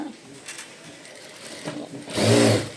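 A sewing machine stitches a strip of lining cloth for a small child's blouse, whirring in faint bursts before a louder, close run of rapid stitching near the end.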